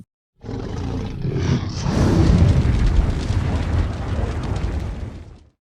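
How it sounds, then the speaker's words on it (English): A long, rumbling dragon roar swells up, peaks loudly, then fades out over several seconds, deep and growling like a large beast. "Well, it's the noise of a dragon, of course."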